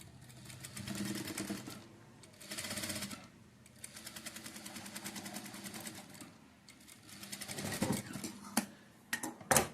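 A sewing machine double-stitches the front panel of a blouse, running in several short bursts and longer rattling runs separated by brief pauses, close and clear.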